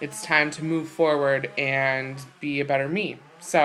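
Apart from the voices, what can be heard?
No everyday noises stand out.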